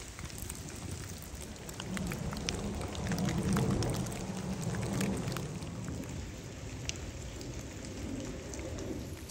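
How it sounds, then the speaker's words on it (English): Steady winter rain falls in the French mountains as a continuous, even hiss of drops on surfaces. It stays close and fairly loud throughout, with no one speaking. "It started raining last night pretty early and it hasn't stopped since."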